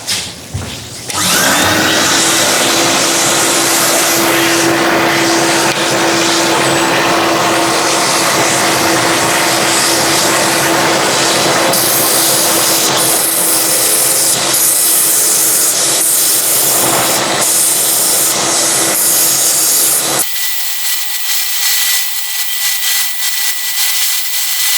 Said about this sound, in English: I'm going to use my sanding table. Now we're going to get the extraction going